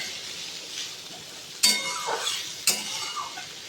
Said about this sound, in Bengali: এটা একটু কিছুক্ষণ ভেজে নেব